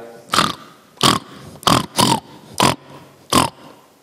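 A voice imitates a pig with six short, loud snorting oinks in an uneven rhythm, separated by brief quiet gaps, in a Sicilian series of animal imitations.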